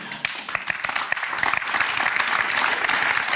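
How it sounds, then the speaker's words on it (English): Polite audience applause at a live talk show recording, a dense patter of many hands clapping steadily and growing slightly fuller toward the end, with no voices over it. "thank you for that nice, polite applause there"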